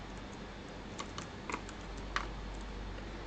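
Python code being typed on a computer keyboard, a handful of quiet, sparse key taps spaced irregularly over a low steady background hum.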